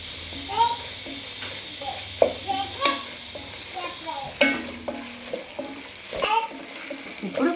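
Ginger garlic paste frying in a pan with tomato and okra, giving a soft sizzle under spoon stirring and scraping clicks, with a voice talking and a child's chatter in the background.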